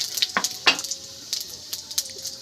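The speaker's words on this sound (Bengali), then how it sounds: "এবার কড়াইতে শুকনো লঙ্কা, 5 ফোড়ন এবং তেজপাতা দিয়ে দেবো।" Dried red chili, panch phoron and bay leaf frying in oil in a wok, a light sizzle with sharp crackles and small utensil clicks over a couple of seconds.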